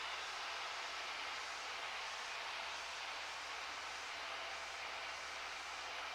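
Steady, continuous drone of a Cessna 152 light aircraft engine heard from inside the cabin in flight at unchanged throttle, broadband and even, with no clear change in level.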